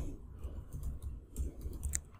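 Quiet clicking on a computer keyboard while typing a PostgreSQL query, made up of a few soft irregular keystrokes over a low background hum.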